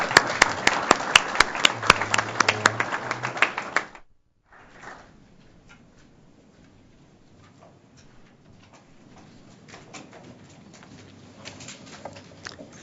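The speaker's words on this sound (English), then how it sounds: "So thank you, and give you a round of applause." An audience at a panel event on illegal robocalls gives a brief round of applause that stops abruptly after about four seconds, leaving faint room noise and scattered taps.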